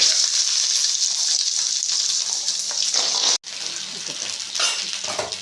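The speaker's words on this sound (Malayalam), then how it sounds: "ഉള്ളി അതിലിടുക എന്നിട്ട് ആ എണ്ണ അവിടെ തേളി ഒഴിക്കുക" Onions fry in hot oil for a pickle, a loud close continuous sizzle and crackle that drops out for an instant before hissing on steadily.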